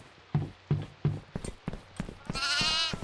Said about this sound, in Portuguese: Tem uma cabra lá